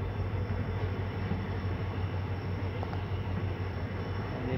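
Pooja SF Express train running through Sirhind Junction without stopping, a loud, steady, dense rumble of wheels and carriages close by that stays constant throughout, with no talk.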